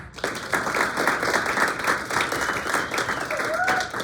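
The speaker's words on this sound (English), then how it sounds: "Please join me in welcoming them in a round of applause and congratulations." Audience at a realtors' leadership installation meeting breaking into sustained applause, dense clapping throughout with a few faint voices mixed in.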